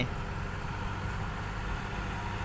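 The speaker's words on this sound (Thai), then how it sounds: "มีรถไถทำทางครับผม" A low, steady tractor engine rumble runs throughout at a moderate, distant level at a dirt track, with no voices and no change in pitch.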